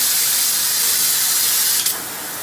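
Steady broadband hiss of water spraying from a high-pressure 8-mode AquaCare handheld shower head on its water jet setting, close and continuous, with a brief click and a slight drop in level near the end as the setting changes.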